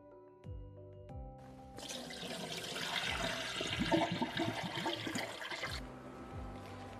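Glutinous rice being washed gently in water for Indonesian lemper, a steady swishing and sloshing of grains and water that swells after a few soft clicks and runs alone for several seconds.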